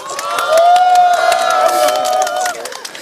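A crowd at a candlelight rally in Yeouido cheers and whoops loudly for a few seconds, with a shrill, sustained cry riding over the noise before it fades.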